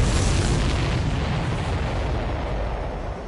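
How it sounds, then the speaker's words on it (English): A supply ship blows up in the combat flight game Ace Combat 7, a loud, deep rolling explosion that rumbles and slowly fades over a few seconds. "Did you see that explosion?"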